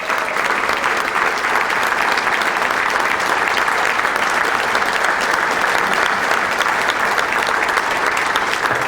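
A dense, loud round of applause from a breakfast crowd at a chamber of commerce event, continuous and even from start to finish with no talk over it.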